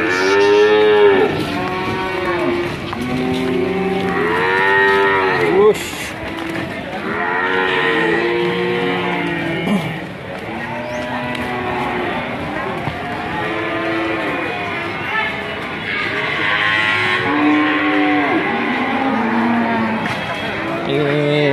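Cattle at the Ambar Ketawang cattle market moo again and again, with loud, close, overlapping calls and brief pauses over a busy crowd background, mixed with occasional talk.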